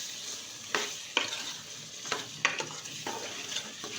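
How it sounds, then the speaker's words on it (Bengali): Chicken frying with garam masala in a pan for a simple home-style Bangladeshi curry, a steady sizzle broken by several sharp scrapes and knocks of a spatula against the pan, close and without talk. "আবার একটু নেড়ে দিচ্ছি।"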